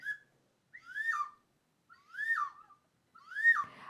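A songbird's chirping is imitated by whistling: four separate rising and falling whistled calls spaced about a second apart, clear and close with silence between them.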